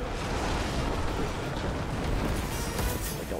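Huge sustained rumbling blast from a bomb detonation during the King's Fall raid in the game Destiny, a dense, loud, continuous roar with a broad wash of noise throughout.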